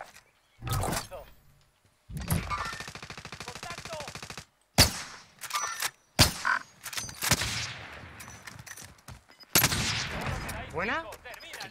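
Bursts of automatic gunfire in the battle royale game Warzone, heard among fast rattling volleys and sharp single shots, coming in separate bursts and interleaved with voices talking between and over the firing.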